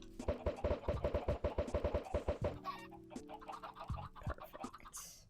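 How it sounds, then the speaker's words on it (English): Minecraft chickens cluck in a fast, close run of repeated bursts, then the clucking thins into scattered softer calls and a few other game sounds. "we need to do something about these chickens"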